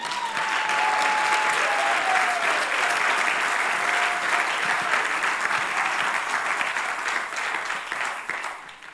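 Congregation in a church applauding loudly and steadily for the Lamb, a dense sustained clapping that fades slightly toward the end, with a faint voice or tone gliding briefly underneath.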